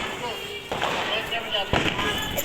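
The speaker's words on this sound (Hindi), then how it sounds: "और बहुत पटाखे हमने फोड़ दिए।" Diwali firecrackers bursting at night, two sharp loud bangs about a second apart, each followed by crackling decay, while voices talk over them.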